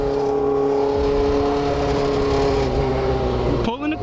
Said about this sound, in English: Well, I'm downshifting right now